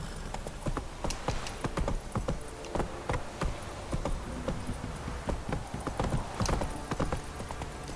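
Horse hooves clip-clop at a steady gallop in The Witcher 3, a rhythmic drumming of footfalls that runs throughout, fairly close and continuous, with faint ambient game sounds beneath and no speech.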